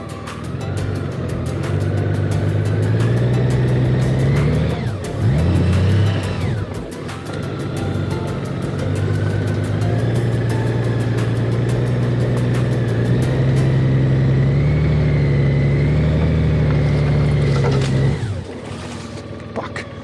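A vehicle engine drones and revs hard while stuck trying to climb a hill in Newfoundland, the loud steady roar rising and dipping through two strained surges, with no talk over it.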